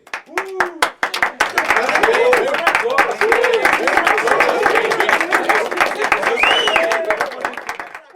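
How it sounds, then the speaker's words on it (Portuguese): A crowd claps steadily in approval, a dense sustained wash of applause with some cheering voices mixed in, loud and close throughout. "A multidão aplaudiu em sinal de aprovação."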